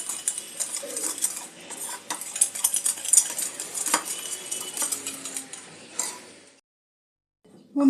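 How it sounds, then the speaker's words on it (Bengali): Chicken marinade with a little water mixed in a bowl, a run of close metallic spoon clinks, scrapes and wet stirring that fades out before a short silence and a final clank. "অল্প একটু জল দিয়ে ভালো করে মিক্স করে নেব"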